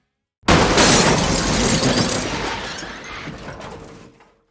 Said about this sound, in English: The argument of fate and free will all comes to an end when the car crashes into Anton.